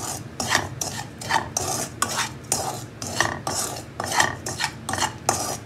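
Semolina (suji) stirred and roasted in a pan over a low flame, with rhythmic scraping strokes of a spoon against the pan at a steady, even pace, close and distinct with no talk.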